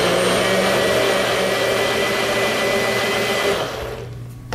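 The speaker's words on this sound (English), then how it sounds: "we're ready to put our magic bullet on, and basically all you do is push down" A Magic Bullet blender running while blending a fresh strawberry milkshake, a loud steady motor whir that drops off near the end.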